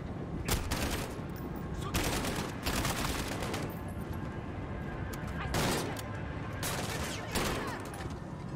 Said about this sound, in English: I appreciate getting shot from a billion different directions